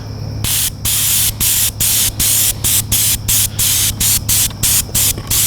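An airbrush fed by an air compressor sprays paint onto foam board in short, regular bursts, about a dozen loud hissing pulses separated by brief pauses, with a low hum underneath.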